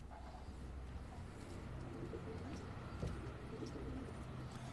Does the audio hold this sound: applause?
no